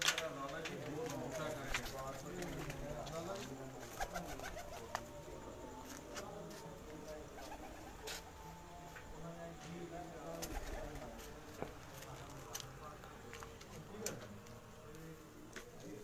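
Pigeons cooing on a rooftop, soft low repeated coos under steady background noise with a few clicks, faint and distant.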